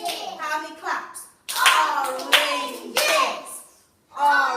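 Hand claps marking the syllables of the word oranges in a nursery phonics lesson, a few sharp claps spread through the clip alongside a child's and an adult's voices speaking.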